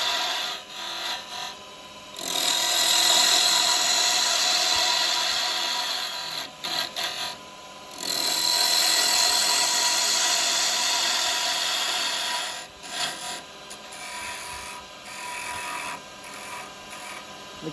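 A carbide chisel cuts wood spinning on a lathe while Christmas ornaments and finials are turned. Long scraping, rasping passes come in bursts with short pauses between them, heard up close and with no one talking.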